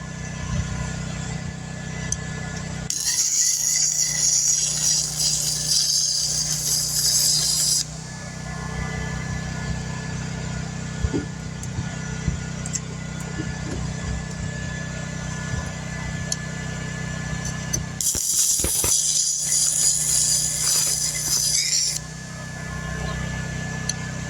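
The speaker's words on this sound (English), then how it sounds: "And I'm welding, I'm blowing holes." A cheap handheld 120 volt welder runs on metal, giving a steady crackling buzz that surges loudly in two long bursts and drops to a lower hum between them, heard close with no talk.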